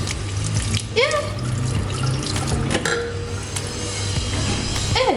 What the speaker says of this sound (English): The water is brown from the tap.